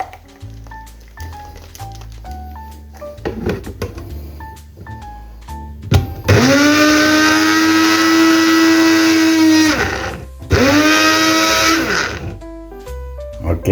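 A kitchen blender coarsely grinds spice paste for fish and lemongrass-galangal fried rice, a loud steady whirring run of several seconds, a brief pause, then a second burst, after quieter kitchen clatter.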